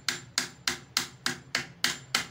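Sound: hammer tapping new oil seal in with a pipe

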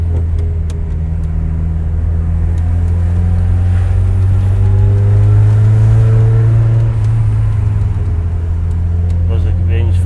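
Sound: Ford Sierra Cosworth car accelerating

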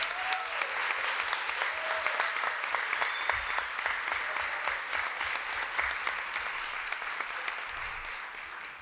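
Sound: applause for an honoree's mother at a ceremony

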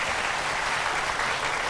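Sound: audience applause

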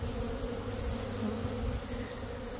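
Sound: honey bees buzzing around queen rearing frame

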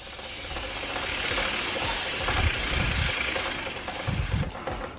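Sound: motorcycle chain being turned by hand

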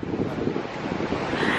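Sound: wind at beach in Guarapari

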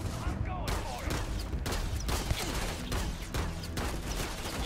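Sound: pistol gunshots in the video game Starfield

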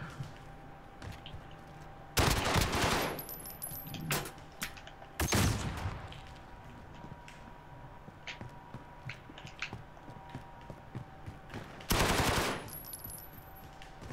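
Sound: gunfire in a video game

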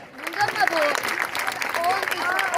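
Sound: applause at a medal ceremony

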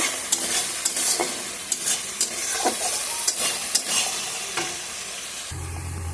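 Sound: spice masala being fried in oil

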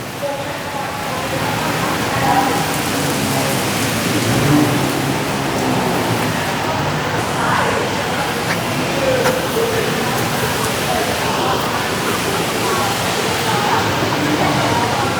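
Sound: heavy rain falling in Bangkok street

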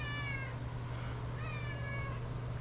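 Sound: cat meowing

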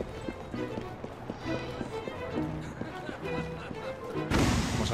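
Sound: horse galloping away in Assassin's Creed Syndicate video game

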